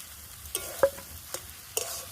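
Spatula scrapes and stirs a rohu fish and bread filling in a pan, giving a few sharp separate scraping strokes over a quiet, faint background with no talking.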